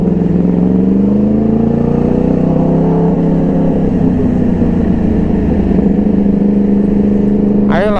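A Yamaha R1 crossplane 1000 cc motorcycle engine revving in first gear with the clutch, a loud, steady, rising drone close by throughout, with a brief higher whine near the end.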